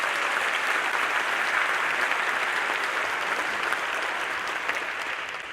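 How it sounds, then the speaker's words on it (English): Steady applause from a sizeable audience, dense clapping that holds at an even level for several seconds and tapers slightly at the end. "That's worth a round of applause."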